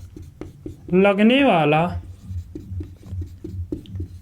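An equation is written on a board during a physics lecture, heard as short, regular tapping strokes from a marker or chalk, with a brief stretch of someone speaking over the start.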